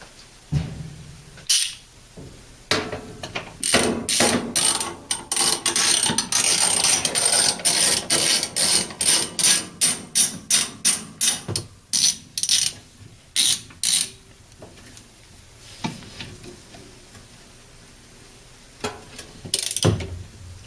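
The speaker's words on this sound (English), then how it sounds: "And now we'll get our ratchet." A ratchet tightens bolts on the agitator of a Whirlpool washer, with rapid clicking runs repeating close up, separated by short pauses.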